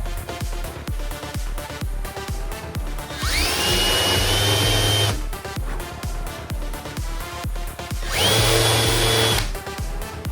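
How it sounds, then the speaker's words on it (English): A power drill countersinks a hole in a wooden muzzleloader stock. Two close bursts of whirring drilling stand out over a steady, ticking background rhythm. "I'm probably going to have to countersink this at least some."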